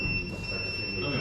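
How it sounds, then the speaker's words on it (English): Electronic buzzers on ESP32 boards in an IoT workshop room give a steady, faint high-pitched tone that sustains throughout over a low background hum, with no talk. "I still hear some buzzer."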